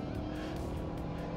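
A 2022 Ford Maverick pickup accelerating hard, its engine note a brief, steady, fairly faint rumble heard from inside the cab.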